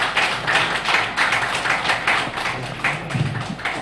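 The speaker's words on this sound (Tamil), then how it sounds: "அனைவரும் கொஞ்சம் கைத்தட்டி உற்சாகப்படுத்துங்க." An audience at an astrology live event applauds, steady rhythmic hand claps from a modest group, near and fairly loud, with no talking over them.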